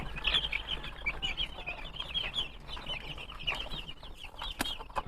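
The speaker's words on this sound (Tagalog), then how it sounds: "bibigyan muna natin sila ng pagkain" A hen and her young chicks cluck and peep while being fed in a backyard, with a busy overlapping stream of soft clucks and high chirps close by and no talking.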